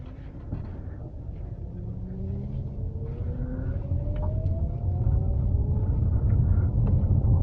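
A Mitsubishi Outlander PHEV driving and accelerating, a low steady rumble of road and motor noise with a faint whine rising gradually in pitch, building slightly louder over several seconds with no talking.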